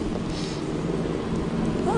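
Steady rain pouring outdoors, a dense broadband hiss that holds constant and fairly loud throughout, with faint wind noise and no clear speech on top.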